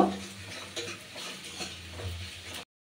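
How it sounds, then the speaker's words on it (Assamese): Soft crackling sizzle of fish heads frying in a pan, with occasional light scraping from stirring. "মাছৰ মূৰখিনি ধুনীয়াকৈ ভাঙি ভাজি দিয়া হৈছে"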